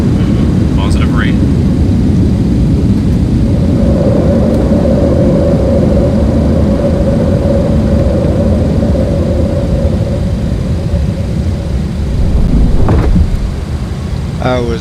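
A simulated Boeing 727 Super in Flight Simulator 2024 climbs after takeoff with a loud, steady jet roar and a sustained tone, while brief cockpit sounds and voices come through.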